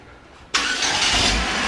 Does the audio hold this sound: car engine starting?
yes